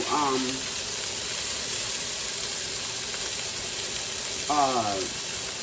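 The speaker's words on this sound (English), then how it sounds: "Cutting fast because they're searing up fast." Boston butt and beef neck bones searing in a hot pan with a continuous loud sizzling hiss. Someone talks briefly at the start and again near the end.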